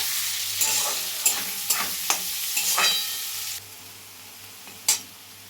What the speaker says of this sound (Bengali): আমরা প্রথমে দিচ্ছি তেলে পেঁয়াজ দিচ্ছি